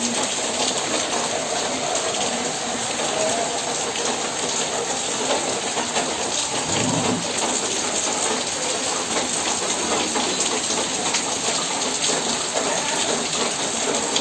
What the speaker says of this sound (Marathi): बाहेर पाऊस बघा.